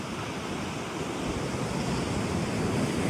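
Sea surf rolls against a shore in a constant broad roar with wind buffeting the microphone, with no distinct breaks and no voices.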